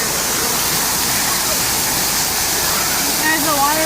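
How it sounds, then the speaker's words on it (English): Steady roar of a waterfall where people are swimming in the rain, a loud, broad rushing wash of falling water filling the scene, with a voice briefly heard near the end. "There's a waterfall"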